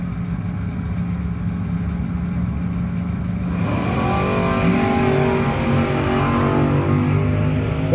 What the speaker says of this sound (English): Awesome looking little Vega wagon getting ready to thunder down the Pro Torque side of the racetrack